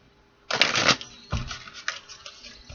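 A thick deck of tarot cards being shuffled: a loud, close riffle burst, then several softer rustling and flicking passes of the cards, with no talking.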